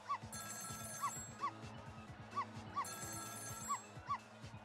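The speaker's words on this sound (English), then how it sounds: "It was the sound of a telephone ringing, coming from the apartment next door." A telephone rings from the apartment next door in Ghost Trick: Phantom Detective. Repeated bright electronic ring bursts arrive in a steady pattern over a low musical game score, with no talking.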